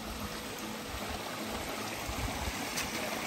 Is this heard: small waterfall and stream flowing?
yes